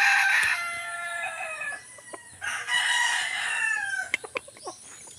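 A rooster among breeding gamefowl crows loudly and close by in one long drawn-out call, followed by a second crow and a few short clucks and sharp clicks.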